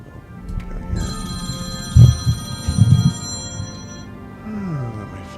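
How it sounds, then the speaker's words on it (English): A phone rings repeatedly close by, a bright electronic ringtone pattern that repeats over a few seconds, with someone talking in between and some thumping handling noises. "let my phone ring"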